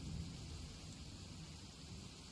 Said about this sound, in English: the sound of thunder is quite startling